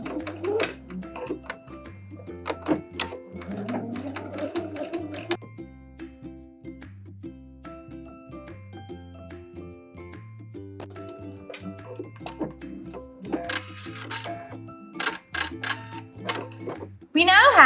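A sewing machine with a thick needle runs slowly along a half-inch sleeve seam on a denim jacket, its stitching bursts and clicks coming and going over a steady tonal background with some voice.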